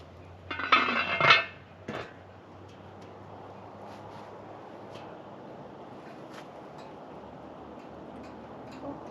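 Metal lid set onto a stew pot over an outdoor fire, a bright ringing clatter followed by a single clank as the pot is swung away, then quiet crackling ambience with faint ticks.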